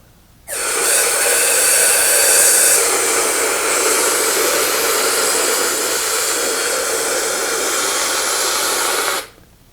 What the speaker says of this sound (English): Then you take the cryonite system and you apply the cryonite as we showed before.